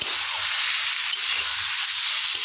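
A ground spice paste of mustard, green chilli, cumin and ginger sizzles steadily in hot oil in a pan, a constant close hiss with faint stirring scrapes underneath.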